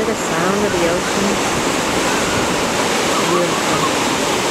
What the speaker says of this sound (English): Can you hear the sound of the ocean?